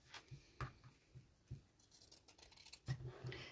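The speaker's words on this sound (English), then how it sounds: "And they need to be reasonably sharp to cut through fabric." Sharp scissors snipping through fabric in a sewing session, a close, quiet series of irregular crisp cuts and rustles with small clicks of the blades, no talking.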